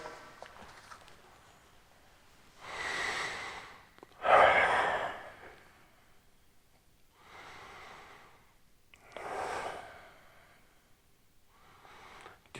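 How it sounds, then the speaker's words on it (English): Slow, deliberate breaths during a hip stretch, each drawn in through the nose and let out through the mouth, spaced every few seconds as soft, airy rushes with one fuller exhale standing out; no talking. "focus on your breathing, in through the nose, out through the mouth"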